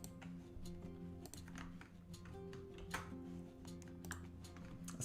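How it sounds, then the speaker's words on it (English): Typing on a computer keyboard during a live online trivia night, a quiet, close run of irregular key taps and clacks going on steadily over a faint background hum. "Let me know if me typing is too annoying."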